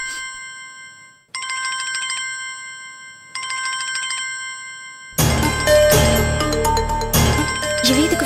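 A phone ringtone chimes in short repeated bursts, loud and close, then carries on under a sudden swell of dramatic background music.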